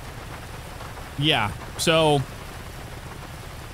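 Steady rain falls across an outdoor scene in the GTA roleplay game, a constant hiss running throughout while a voice speaks briefly over it in the middle.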